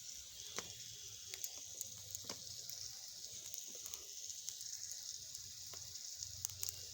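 Curry of potato, fish, vegetable stalks and eggplant fries in a pan on the stove, a faint steady sizzle with scattered soft pops and crackles, close and low in level.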